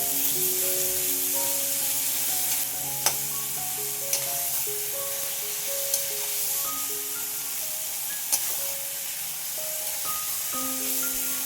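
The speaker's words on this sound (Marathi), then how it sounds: "आता हा कांदा हलका सोनेरी रंग येईपर्यंत परतून घ्यायचा छान" Finely chopped onion sautéing in a pan for tomato chutney, a steady soft sizzle with a few sharp spatula clinks against the pan and no talking.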